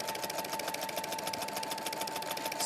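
A sewing machine stitches decorative quilting stitches with a fast, steady mechanical whirr and rapid needle ticking, close and continuous with no talk.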